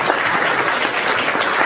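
An audience applauds a woman called up onto the stage at a customer-experience talk, steady dense clapping filling the room, close and loud throughout with no voices over it.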